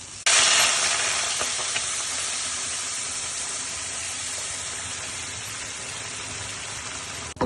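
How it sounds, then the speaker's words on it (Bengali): Hot water pours steadily into a pan of rice fried with soaked cashews and raisins for pulao, a loud continuous hissing rush that holds for about seven seconds and stops abruptly. "এবার এর মধ্যে গরম জলটা ঢেলে দেব।"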